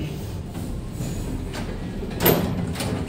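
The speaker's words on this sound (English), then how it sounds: "Doors opening." Lift doors at a Morrisons supermarket, a Southern Lifts passenger lift, slide open with a soft rumbling whoosh and a brief clunk near the end, set against steady mechanical hum.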